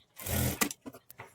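A sewing machine stitching a high neck blouse runs in one short, loud burst of whirring, then gives a few brief clicks and taps as it stops.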